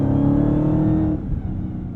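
Supercharged Dodge Challenger SRT Jailbreak engine revving hard under acceleration, a loud close droning roar with rising whine that cuts off abruptly after about a second, leaving a rougher lower rumble.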